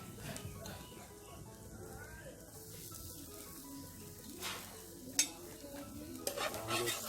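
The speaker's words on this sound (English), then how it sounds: "Saute my garlic." Garlic sautéing in a frying pan of warming oil, with a steady soft sizzle and occasional stirring and utensil clinks against the pan, close by.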